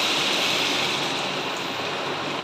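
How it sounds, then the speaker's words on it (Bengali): Water poured into curry cooking in a home kitchen pot, a steady continuous rushing splash with an even hiss, close and moderately loud, no talking. "এবার এতে জল দিয়ে দেবো"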